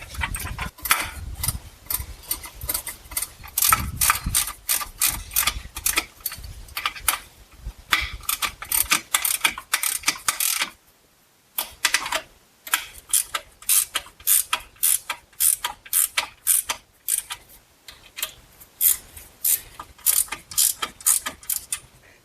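Bellhousing bolts are driven into a Chrysler Town & Country 62TE transmission, heard as rapid bursts of ratcheting clicks repeated in quick runs with a short pause midway, close and fairly quiet.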